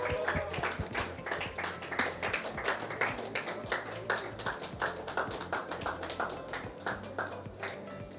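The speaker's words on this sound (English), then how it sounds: "Give it a round of applause, guys." Applause at a poker tournament final table during a trophy presentation: a small group clapping steadily in distinct, separate claps close by, sustained throughout.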